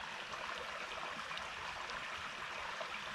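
A woodland creek near a branch of the Chipola River flows gently, giving a soft, steady, distant babble and trickle with no voices.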